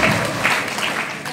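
Applause from a seminar audience in Faridabad, a dense continuous patter of clapping throughout, loud and close, with faint voices underneath.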